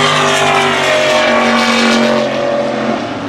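Race car engine droning loud and steady during a heat race at a short-track memorial event, a sustained high-revving tone that eases slightly toward the end.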